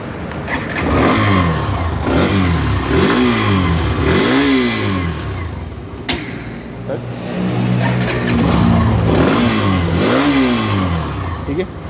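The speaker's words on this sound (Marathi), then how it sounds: "पण त्याच्या आधी तुम्हाला या बाईकचा तुम्हाला साऊंड करून देतो कसा येतो." A 2024 Hero Xtreme 125 IBS base-model motorcycle engine starts and revs in repeated rising-and-falling bursts, loud and close, with a steadier idle between the revs.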